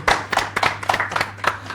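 Audience clapping at a business talk show event, a brief burst of scattered hand claps in an uneven rhythm, moderately loud and close, with a faint steady hum beneath.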